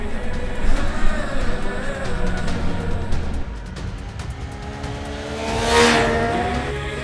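A Triumph Trident 800 motorcycle on a test ride, its engine droning loudly with rising and falling pitch as it revs, over constant wind rush.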